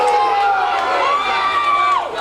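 A wrestling crowd cheers and whoops at an indie show, the mass of voices loud and close, with one rising, sustained shout riding over the noise for about a second.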